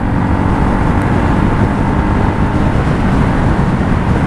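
Steady, loud, dense engine roar from a Honda CL250 motorcycle being ridden during its break-in period, mixed with heavy wind rush, holding constant with no distinct rev rise.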